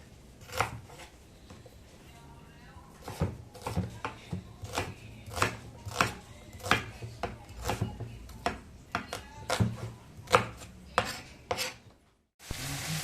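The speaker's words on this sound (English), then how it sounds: "Now I am chopping my onions." A knife chops onions quickly and unevenly against a cutting board, dozens of close, crisp taps in bursts, with a short pause near the end.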